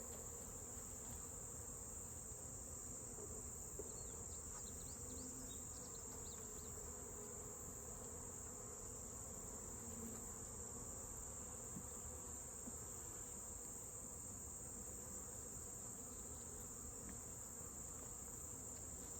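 A colony of honeybees hums steadily around an open hive during late-summer colony work, a dense, even buzz that carries without a break, with no talk.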